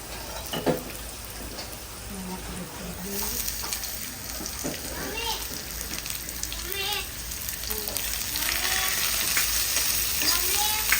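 Garlic sizzles and crackles in hot oil with a steady frying hiss throughout, while someone talks over it.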